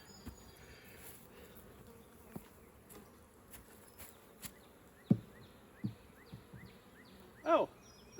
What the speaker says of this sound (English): There's plenty of bees in that hive.